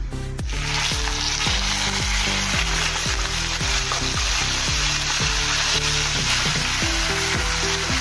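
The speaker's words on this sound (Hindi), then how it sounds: "तेल गरम हो गया है, जीरा डालेंगे 1 चम्मच। अभी इसमें हम पेस्ट डालेंगे जो हमने बनाए थे प्याज की, वो इसमें डाल देंगे।" Onion paste and cumin fry in hot oil with a loud, close, steady sizzle, and a faint repeating tonal hum runs beneath the spattering throughout.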